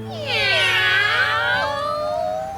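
Several people, children among them, imitate a cat meowing during a yoga-style stretching session, producing loud overlapping drawn-out meows that rise and fall together for about two seconds.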